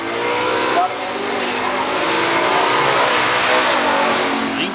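A 1966 Chevelle with an L78 396 V8 and a 1969 Nova 396 automatic launch in a stock drag race, a loud, sustained engine roar with some tire squeal, close and continuous.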